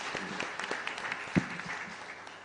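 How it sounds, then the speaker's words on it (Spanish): Applause from a community gathered at a live Mass for a novena to Our Lady of Fátima, a faint, loose scatter of clapping with one sharper thump midway, fairly distant. "Fuerte aplauso entonces para todos nosotros."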